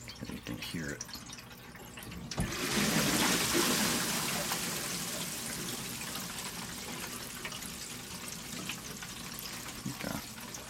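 Water rushes through a home water system's pipes after a gunk flush, a steady hissing flow that swells around two seconds in and then holds, with faint bumps and clanks near the end.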